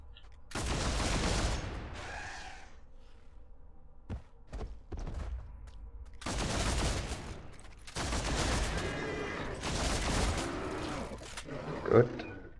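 Gunfire from the video game Deathwatch: Tyranid Invasion comes in several loud rattling bursts separated by quieter gaps, with a few sharp single shots in between.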